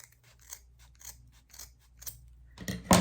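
Scissors cut through yarn wrapped around a hand for a small craft piece, with faint snipping and handling noises and then a louder close cut near the end.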